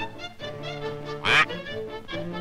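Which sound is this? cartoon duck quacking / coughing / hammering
cartoon duck quacking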